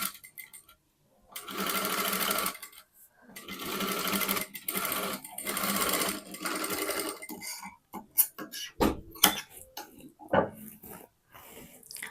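Sewing machine stitching a blouse, running in long steady whirring bursts separated by short pauses, then shorter stop-start runs near the end, close and loud.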